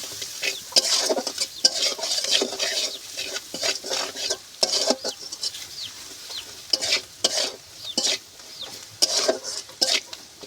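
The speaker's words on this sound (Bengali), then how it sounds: "এবার আমি খুব সুন্দর মতো করে এই মশলাটা কষিয়ে নেব" Chilli powder masala is stir-fried in a pan for a radish and potato curry, with repeated spatula scrapes and clinks against the pan over a light sizzle in an irregular rhythm.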